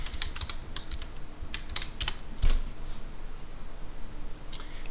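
Computer keyboard keys typed in a few quick, light clicks, close and fairly quiet, with short pauses between bursts and no talking.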